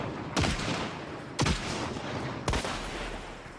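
A chaos bomb in Hunt: Showdown crackles like gunfire, three loud sharp reports about a second apart, each trailing into a noisy rumble.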